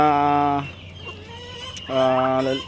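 Rhode Island Red roosters crow loudly nearby, two long crows separated by a short pause filled with faint clucking.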